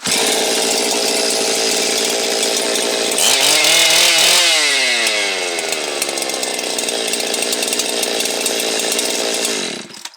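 A Husqvarna 365 chainsaw engine roars loudly on first startup after reassembly, revs up sharply, then settles into a steady idle before cutting off at the end.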